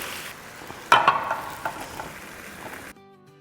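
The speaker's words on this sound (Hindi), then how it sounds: "उसको अच्छे से मिक्स करेंगे, फ्लेम को बिल्कुल हाई कर देंगे।" Chili chicken sauce stirred in a pan over a high flame: steady sizzling with a few scraping stir strokes, loud and close, cutting off abruptly.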